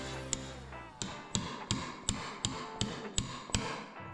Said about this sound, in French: Donc je prends mon marteau et je viens,